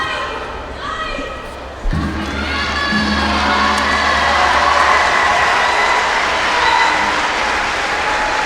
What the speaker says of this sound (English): Cheers from the crowd for Barbara Matic with 2 Wazaris.